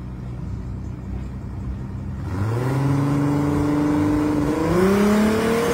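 A black Toyota Supra drag car with a 2JZ engine sits at the track, idling with a low rumble before revving up into a rising, sustained engine roar that climbs in pitch twice.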